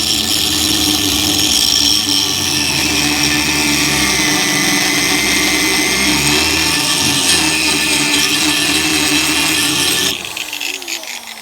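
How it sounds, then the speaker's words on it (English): An angle grinder grinds factory rivets flat on a John Deere 400 rotary hoe wheel, a loud, steady, high-pitched whine lasting about ten seconds before the tool spins down. "The only way to get them out is to grind them flat."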